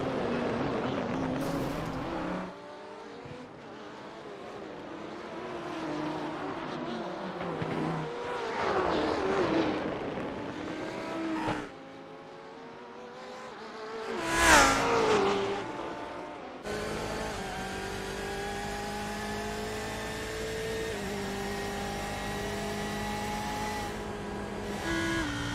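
Tin-top race cars in a qualifying session at Long Beach: successive engines droning and shifting, cars rising and fading as they pass, with one loud close pass midway before a steady high whine takes over.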